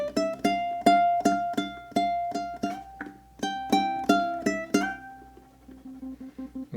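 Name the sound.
ukulele playing last phrase of the A melody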